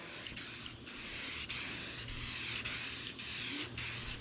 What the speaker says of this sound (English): what I use is just your simple rattle can black, and you want to just spray it on.